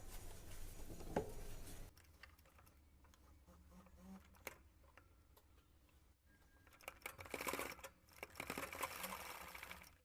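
A sewing machine stitches a small summer dress for a Laddu Gopal figure, running in close, rapid bursts of needle clatter separated by quieter pauses and handling noises, with no talk.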